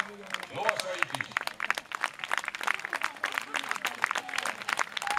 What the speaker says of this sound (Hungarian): Fogadják egy nagy tapsal a Megyel Sarja Hagyományőrző Egyesület lovasait is.